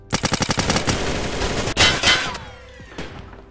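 Rapid automatic gunfire in the video game Metro, a quick burst of close, loud shots followed by a few heavier blasts and ringing tails, with no speech over it.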